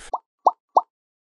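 Three quick, bright plopping water splashes sound in even succession, short and close, used as an effect for diving.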